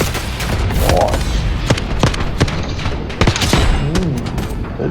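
Rapid bursts of video game gunfire, sharp cracks and thuds in clustered volleys over several seconds, loud and close, with a few brief voices in between.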